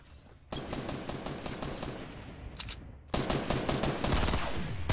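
Gunfire rings out in a crossplatform duos shooter video game: dense bursts of rapid automatic shots in two sustained volleys, the second louder and closer.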